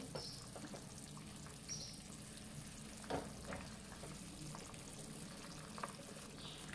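Okra curry (bendakaya pulusu) simmers in a pot, giving a faint, steady bubbling and gentle sizzle with a few soft pops and clinks.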